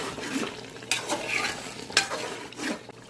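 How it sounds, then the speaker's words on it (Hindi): A spoon stirs chicken biryani masala with coriander and mint in a pot, giving soft scraping and sizzling strokes in an uneven rhythm, close and moderately loud, with no talk. "और अच्छे से मिक्स करेंगे"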